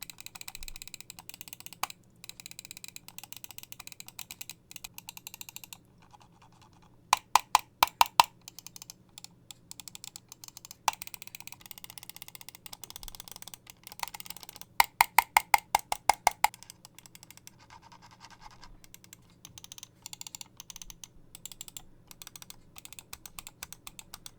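Sharp, crisp clicks from an Ajazz gaming mouse come in quick bursts, with quieter ratcheting scroll-wheel ticks in between, close up and with no talking.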